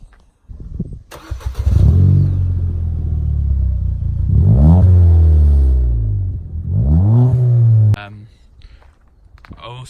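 A Ford Fiesta ST EcoBoost fitted with a modified 3-inch exhaust starts up and idles loudly up close, its note swelling in a couple of rev rises before cutting back, with a brief knock near the end.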